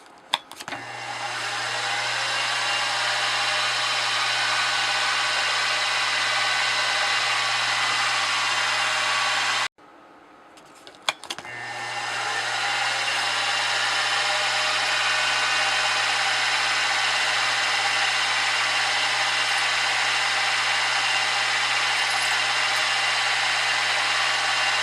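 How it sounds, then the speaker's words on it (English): A high-pitched machine whine from a center drill and then a 1/16-inch drill bit cutting metal runs steadily, cuts out briefly near the middle, then starts up again and continues evenly to the end. "we'll get that center drilled, followed up with a 1/16 of an inch drill bit"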